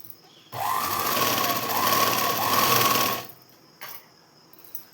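A sewing machine stitches blouse fabric in one steady, close whirring run of about three seconds, then stops, leaving a couple of faint clicks.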